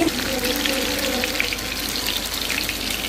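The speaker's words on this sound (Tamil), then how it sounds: "மீனும் நல்லா பொரிஞ்சிட்ருக்கு." Fish frying in a pan for a homemade fish curry, a steady dense crackling sizzle that runs on without a break and without talk.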